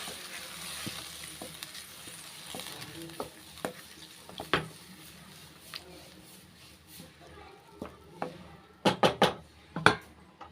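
Tomato and curd pachadi with ridge gourd being stirred in a pan, a soft continuous scraping and faint sizzle with a few sharper utensil knocks near the end, close by.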